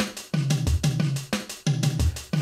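Built-in drum rhythm preset 25 from a cheap £19.99 Lidl synthesizer keyboard, a steady looping electronic beat of kick, snare and hi-hat hits, close and alone.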